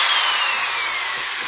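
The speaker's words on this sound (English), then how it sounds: "So I'm going to drill a bunch of holes." Power drill boring holes into a plastic bucket, a close, loud whirring grind with a high tone that holds steady for a brief moment.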